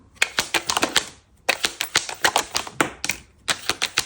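Rapid crisp flutters of cards being riffle-shuffled close up, in several quick bursts separated by brief pauses.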